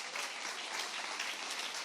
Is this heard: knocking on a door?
no